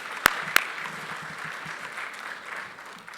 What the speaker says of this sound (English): Mr. Mandor deserves another round of applause for that presentation.